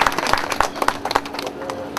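An audience at a Lions Club eye camp event at a public library applauds, a dense run of close, moderately loud hand claps that thins out toward the end.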